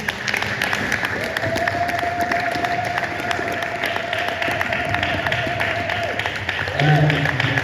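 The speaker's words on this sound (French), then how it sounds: "Est-ce que vous pouvez applaudir rapidement pour la parole de Dieu?" Church congregation at a Sunday service applauding together, sustained crowd clapping with a faint held tone in the background and a voice near the end.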